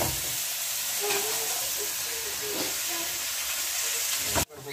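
Ground beef sizzles and hisses steadily in a pan as it fries with seasoning, a continuous close frying sound with faint clinks and a brief stir near the end.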